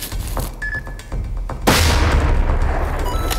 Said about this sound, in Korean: 건물 표적 사격 훈련 진행하겠습니다.